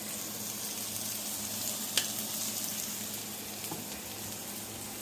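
Homemade butter with homegrown garlic sizzles steadily in a pan while being stirred, a loud, continuous close frying hiss with a couple of faint clinks and no voices.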